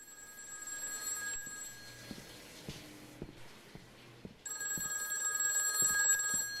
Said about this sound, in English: That's not what a phone like that would sound.